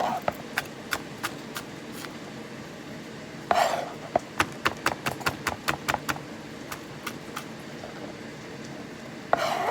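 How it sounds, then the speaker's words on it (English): Knife chopping an onion into tiny cubes for homemade Greek spaghetti sauce, brisk regular taps on a cutting board in quick runs, close by, with a voice talking over the background. "I just make it into slices. Just like that, and just chop it up."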